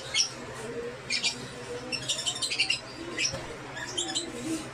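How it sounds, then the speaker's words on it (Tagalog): Small birds chirp and tweet in short bright bursts from close by, several clustered calls repeating over a few seconds against a low steady background hum, with no talking. "Ang ibon na sasagutan"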